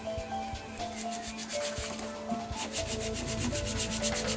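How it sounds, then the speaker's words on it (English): Vinyl transfer letters rubbed down by hand onto a wooden base, with steady, close scratchy strokes that repeat in a brisk rhythm, getting a bit louder and denser toward the end, with no voices. "And I'm rubbing it down in there to get those letters to stick, because that vinyl will stick to that wood very well."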